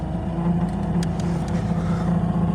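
A Volkswagen Golf VII heater blower motor with worn brushes runs at full speed, giving a steady, loud whirring drone with a rough, uneven undertone and faint intermittent clicks throughout.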